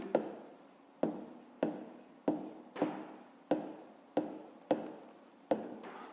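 A pen writes on paper in steady strokes, each a soft scratch that starts sharply and fades, about eight in a row, quiet and close with no voices.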